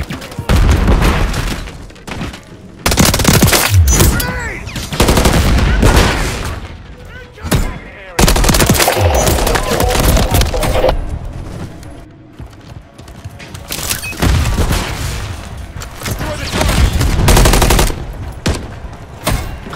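Repeated gunfire in Call of Duty: Modern Warfare 3 (2023) multiplayer hardpoint match, loud bursts and booming shots coming in clusters with short gaps, mixed with game voice callouts and mechanical clatter.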